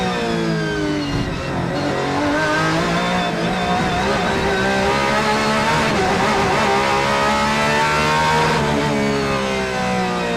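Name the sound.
race car accelerating around Fuji circuit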